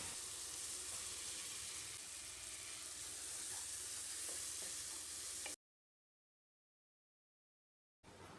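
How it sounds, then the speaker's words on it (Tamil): Steady, loud sizzling of chopped tomatoes frying in a pan for chicken gravy for several seconds, then a sudden silence before the sizzle briefly returns. "தக்காளி நல்லா வதங்கட்டும்"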